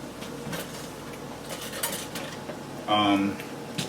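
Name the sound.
fork going over seared meat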